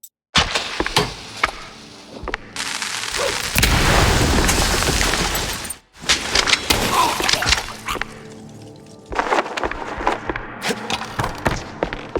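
Firecrackers set off inside a wooden attic in a video game, heard as a loud run of dense crackling bangs and booms that fills the scene, breaks off briefly, then resumes with scattered sharp pops.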